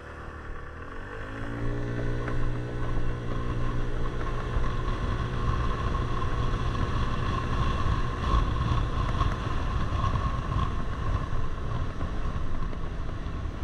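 A Royal Alloy GP300 scooter with a new engine accelerates from standstill on a single-track UK road; the engine note climbs quickly in the first seconds, then holds a steady drone mixed with heavy wind rush.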